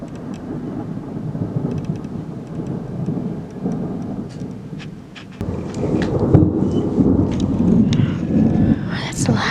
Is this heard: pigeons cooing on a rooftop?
no